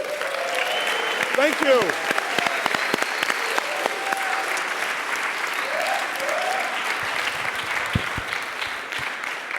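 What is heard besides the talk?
audience applause for the lecturer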